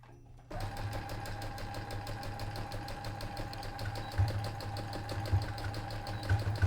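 A sewing machine starts up and runs steadily with a fast, rhythmic mechanical clatter, fairly close and continuous.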